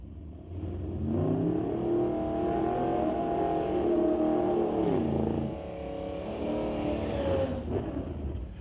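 A white Chevrolet S10 drag race car accelerates hard down the strip in a pro category round, its engine roaring loud and steady with rising pitch before easing briefly and pulling again, close and dominant throughout.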